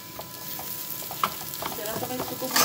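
Moong dal halwa being roasted and stirred in a pan, giving a continuous dense scraping and frying rustle with occasional sharper clinks, close and fairly loud, with no voices.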